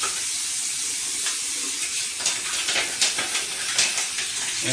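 Tap water runs steadily into a sink while hands with long fingernails are rinsed under it, a close continuous hiss and splash with small shifting surges of flow and no talking.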